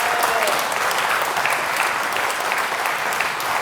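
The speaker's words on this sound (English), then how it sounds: "So another round of applause for Anne Scandrett there." A room full of people at a community awards event applauds a nominee, producing a loud, continuous wash of clapping that stays dense and even from start to finish.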